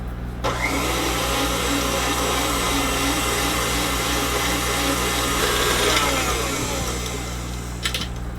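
An electric mixer whirs loudly and steadily while beating buttercream at speed for French macarons, a continuous motor whine with slight rises and a brief clatter near the end, no voices.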